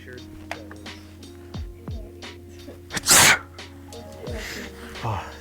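One forceful sneeze erupts in a hushed library, preceded by small breathy sounds and faint murmuring voices in the background.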